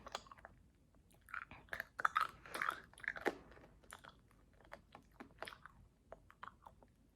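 Someone chews crunchy tanghulu candied fruit with a hard sugar shell, making close, quiet crunches and bites in irregular bursts, louder in the middle, against an otherwise quiet background.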